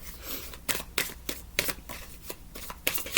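Tarot cards are shuffled in a run of crisp, riffling bursts, each a quick papery flutter with short pauses between, close and fairly quiet.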